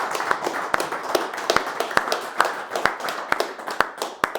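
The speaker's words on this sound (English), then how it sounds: "Give Dave a big round of applause" An audience at a spring seminar claps after a talk, a close run of sharp, uneven individual claps with a fairly small crowd, no speech over it.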